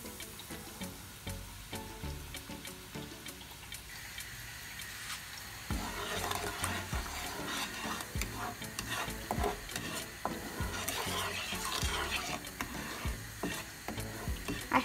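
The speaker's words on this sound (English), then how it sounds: "Now we'll keep stirring until we get one string consistency." Cashew and raw-sugar syrup being stirred in a pan, a steady scraping and swishing that grows louder and busier after the first few seconds, with faint bubbling underneath and no voices.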